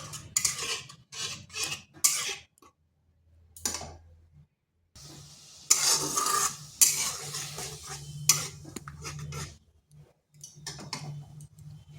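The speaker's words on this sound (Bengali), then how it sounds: "একটু ভেজে নিচ্ছি, মানে নেড়ে নিচ্ছি, যাতে টমেটো আর আদার কাঁচা গন্ধটা চলে যায়" Tomato, ginger and green chili paste is stirred in a pan for zero-oil vegetarian cooking, giving bursts of scraping and clinking utensil strokes separated by short quiet gaps, with a soft low sizzle between strokes, near and moderately loud.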